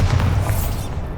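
A Bombarda blasting spell goes off in Hogwarts Legacy, a loud, close, booming explosion with a heavy low rumble that decays over about a second, with no talk over it.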